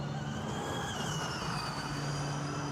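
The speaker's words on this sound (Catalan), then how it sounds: "Aquí la frenada com apreta Lotterer" A Formula E race car brakes on the downhill section of the Rome E-Prix street circuit, a steady, loud electric whine with gliding tonal pitch lines over dense road and crowd noise.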